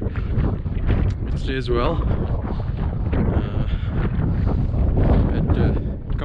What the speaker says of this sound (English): It is really, really windy